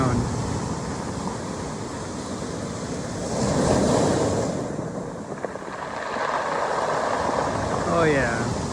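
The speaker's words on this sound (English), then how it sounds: "The waves here sound cool because of all the rocks." Waves surge and wash against a rocky shore on the Oregon coast in a steady roar, swelling twice, with wind buffeting the microphone and a brief voice at the end.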